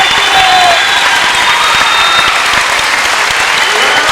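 Crowd at a 2004 Nebraska state high school girls' swimming championship gives a swimmer a standing ovation, with steady, dense applause filling the natatorium throughout and a few faint whistles over the clapping.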